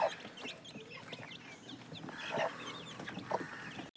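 Three-month-old chickens, hens and young roosters, cluck softly and intermittently at a farm, with a few louder calls over a faint, quiet background.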